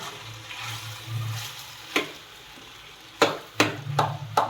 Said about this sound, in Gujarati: અને આપણે આને વ્યવસ્થિત હવે હલાવી લઈશું.